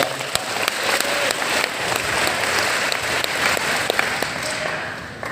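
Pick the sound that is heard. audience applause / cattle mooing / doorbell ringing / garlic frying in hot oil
audience applause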